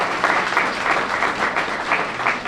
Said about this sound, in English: our applause can be directed at you